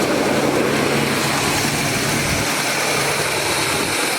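With its exhaust leak repaired, a 1979 Chevy G20 custom van idles smoothly and fairly quietly nearby in a constant low drone that holds even for the whole stretch, and no voices are heard.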